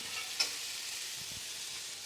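Cashews and onions frying in a pan, a faint steady sizzle with a brief scrape of stirring near the start and a couple of soft low knocks, close and quiet with no talk.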